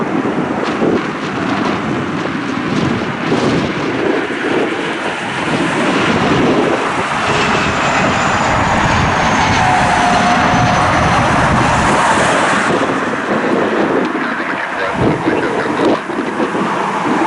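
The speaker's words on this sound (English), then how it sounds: "Got a Dassault Falcon 2000 inbound from IDK." A Dassault Falcon 2000 business jet lands on runway 23 in a gusty crosswind at Cleveland, heard from a distance as a continuous roar mixed with heavy wind buffeting the microphone.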